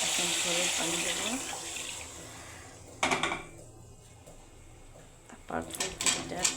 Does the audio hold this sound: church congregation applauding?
no